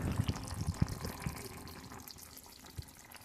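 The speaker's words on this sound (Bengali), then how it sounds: "একটু হালকা মতো জল দিয়ে কষাই" Water is poured into masala frying in a pan for a bata fish curry, giving a close, bubbly splash and sizzle that is strongest at first and then settles into a softer hiss.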